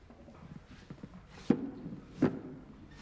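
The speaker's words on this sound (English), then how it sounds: "it sounds like there's something stomping around in the Wonder Box" Two heavy thumps land about a second apart from something stomping inside a closed box, each a dull knock following softer faint shuffles.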